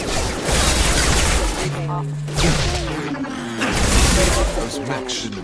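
Gunfire during a Mass Effect 2 video game battle, with bursts of shots and booming impacts under loud in-game combat shouts, dense and continuous throughout.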